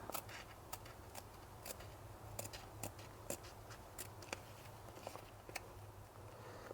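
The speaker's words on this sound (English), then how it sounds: "And then use my fabric scissors." Fabric scissors snip through Alcantara wrap material for an NSX seat belt guide, a series of faint, close, crisp clicks and short cutting ticks over a steady low hum.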